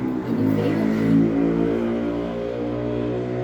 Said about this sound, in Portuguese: Aqui tem muita moto, gente.